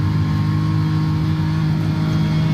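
A racing car in a racing video game accelerates at the Nurburgring, a steady, loud engine drone with strong low harmonics that holds level for the whole stretch, no one talking over it.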